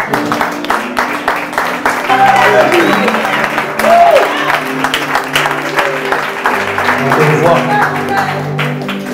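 A church congregation claps and cheers for the Lord, with steady applause and crowd voices running throughout while a woman's prayerful singing or speaking rises over the noise.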